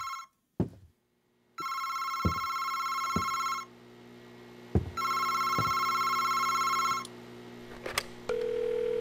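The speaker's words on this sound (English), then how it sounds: "Phone is ringing somewhere." An old-style telephone bell rings in a horror video game, August Night, with two long ringing bursts separated by a pause, loud and close, while footsteps or knocks thud between the rings.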